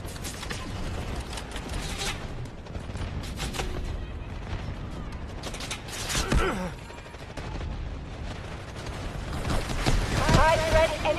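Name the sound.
artillery barrage in a video game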